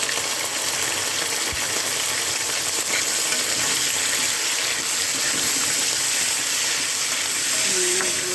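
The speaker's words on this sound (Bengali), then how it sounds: "মাছগুলো দিয়ে আমি এটা ভালো করে ভেজে নেব।" Shrimp and onions fry in a pan with a steady, dense sizzle that holds evenly throughout, close and continuous, with a few faint stirring clinks.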